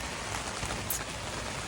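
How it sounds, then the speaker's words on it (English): Heavy rain driven by strong wind lashing against a tent in cold Scottish weather, a dense, steady, close hiss and patter with no pauses. "Cold and blizzardous rain and mega winds"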